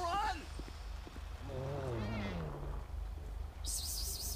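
A cat meows in a video game with a police patrol setting. There is one drawn-out meow partway through, set against background game sounds and voices speaking.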